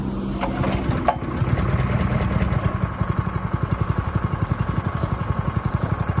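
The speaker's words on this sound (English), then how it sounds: "So this is a brand new Husqvarna Sod Cutter." A brand new Husqvarna sod cutter's small engine running close by, first a busy roar, then settling into a steady chugging idle with a regular pulsing beat.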